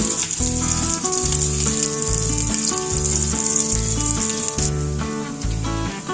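Soy kebabs fry in hot white oil in a wok, a bright continuous sizzle running under loud melodic background music.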